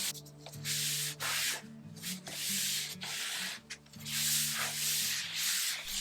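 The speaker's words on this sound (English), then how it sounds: "I did a little more sanding, and this was more about having a proper surface for adhesion" Hand sanding of a painted wooden surface, rough strokes of abrasive rubbing back and forth in a steady rhythm with short pauses between passes, close and fairly quiet, with a faint tonal hum underneath.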